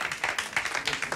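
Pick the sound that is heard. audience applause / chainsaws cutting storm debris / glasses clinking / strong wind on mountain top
audience applause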